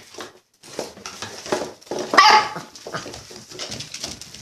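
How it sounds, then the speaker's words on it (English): Labrador puppy about five and a half weeks old yips and barks in short repeated bursts close by, with whimpering in between, indoors among other puppies. "right now she's barking at me."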